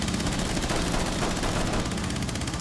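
Gunfire in the Rainbow Six Siege video game, a dense continuous spray of rapid automatic shots, loud and unbroken throughout with no talk over it.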